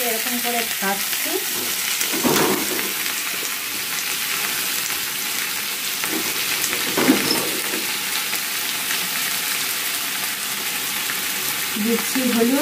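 Onions and whole garlic cloves fry in hot oil in a pan, a steady bright sizzle running throughout with a few scraping stirs of a spatula, close and fairly loud, no talking.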